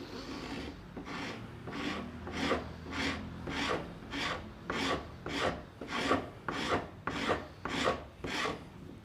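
A wood chisel is drawn across hardwood like a scraper, giving a steady series of about fourteen rasping strokes, close and fairly loud, evenly paced at under a second each, with no talking.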